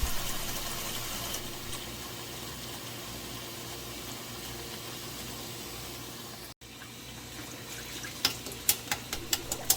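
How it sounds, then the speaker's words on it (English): Cold tap water runs steadily into a pot of freshly boiled eggs in a kitchen sink, a continuous rushing fill, with a few sharp clinks near the end. "I drain out the hot water and fill it with cold tap water"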